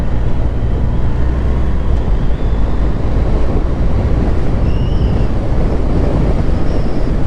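A BMW R1300 GS Adventure Triple Black motorcycle in enduro mode on a dirt road, heard as a steady, loud wash of wind buffeting and low rumble with no voices.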